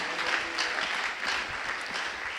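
A church congregation applauds during a French-Swahili sermon service, a soft but steady wash of many hands clapping that swells slightly in waves, somewhat distant and without talking over it.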